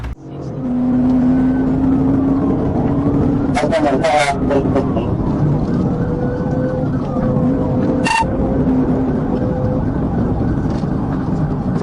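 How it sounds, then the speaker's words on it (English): A siren wails continuously over steady road and engine noise, with a couple of sharp bursts midway; a voice talks over part of it. "he activated his siren in an attempt to pull the motorcycle over"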